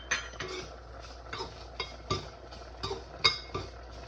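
A metal spoon stirs coconut into a pot of South Indian kuzhambu masala with chillies, giving close, irregular clinks and scrapes against the vessel at a steady stirring pace.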